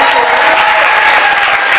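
An audience at a New York book launch for the My Drunk Kitchen book applauds its designer, a loud, close, unbroken roar of many hands clapping.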